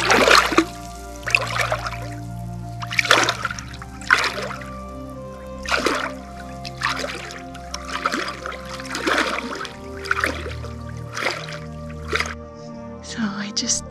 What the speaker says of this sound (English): So I just came into the water here.